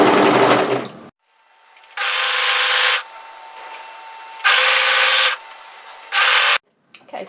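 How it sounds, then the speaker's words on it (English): An overlocker runs along the long raw edges of a longline hoodie in three loud bursts of steady, fast mechanical whirring separated by quiet pauses, with no talking. "I'm going to start overlocking those long raw edges"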